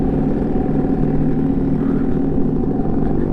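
A restored Yamaha Alfa 2R motorcycle engine runs at a steady idle, a close, even two-stroke drone with a low continuous hum and no talking.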